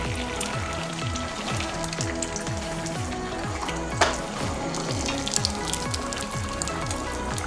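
A fresh egg frying in a pan on high heat, with a constant crackling sizzle throughout under a steady background hum, without talk.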